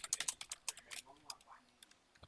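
Rapid keystrokes on a computer keyboard come as a quick burst of close clicks that thin into scattered taps, with faint voices underneath.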